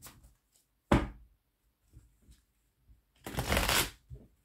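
Oracle cards are shuffled close by for a tarot reading. A sharp riffle comes first, then light shuffling sounds, then a longer, louder riffle in a quiet room.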